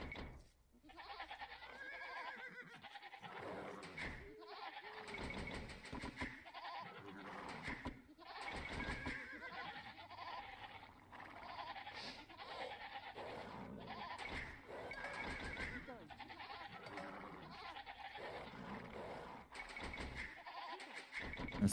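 A goat in Age of Empires II bleats repeatedly in short, wavering calls spread across a long stretch, faint and close, with game sounds in between.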